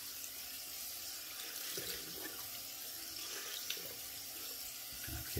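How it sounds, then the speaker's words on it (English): Water runs steadily from a bathroom sink tap as a continuous broadband hiss with faint splashing, heard alone and at moderate level. "Rinse off the sink a little bit here."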